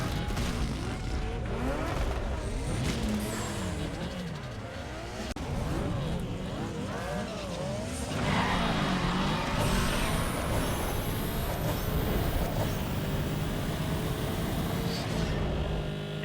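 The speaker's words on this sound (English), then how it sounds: "let's go do a drag race." A VW Golf GTI with a 1.8L I4 drag races in Need for Speed Underground 2, its engine revving hard and climbing through the gears, with tire noise, loud and steady throughout.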